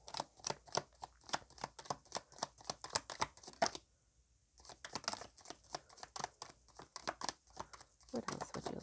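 A large deck of tarot cards being dealt into two piles, a quick series of crisp card snaps and paper rustles with a brief pause midway, soft and close.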